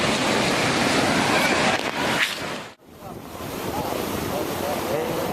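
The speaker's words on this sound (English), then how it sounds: "This tsunami that hit California was caused by an earthquake off the coast of Japan" Tsunami waves from an earthquake off Japan surge into a California port: a loud, roaring wash of water and heavy wind buffeting, which briefly cuts out before the churning rush resumes.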